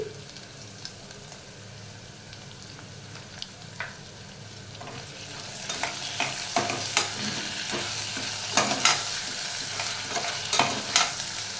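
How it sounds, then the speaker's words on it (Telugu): Paneer frying in a pan after ginger garlic paste goes in, for a quick paneer pulao: a low steady sizzle with scattered crackles that grows louder and denser over the second half, with no one speaking. "ఇప్పుడు ఇందులోకి మనము అల్లం వెల్లుల్లి పేస్ట్ జస్ట్ ఆ పచ్చిదనం పోయే వరకు ఇలా వేస్తే సరిపోతుంది"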